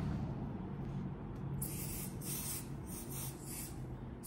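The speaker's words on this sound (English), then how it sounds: "It's spray adhesive, but it's tempering, so it doesn't leave a residue." A series of short, sharp hissing spray bursts from an aerosol can of spray adhesive onto a satin baseball jacket, close by, separated by brief pauses over a low background hum.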